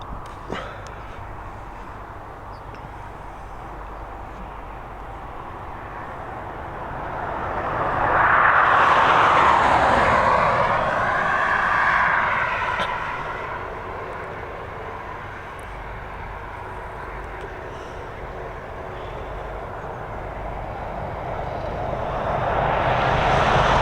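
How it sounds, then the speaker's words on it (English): An Aer Lingus Airbus A320, one of the fleet's 14-year-old jets, departs Dublin Airport from runway 10R. Its engine roar swells to a loud, rushing peak midway, fades, then begins rising again at the end. "we're going to have an Airbus A320, this time heading over to Burgas, operated by Aer Lingus"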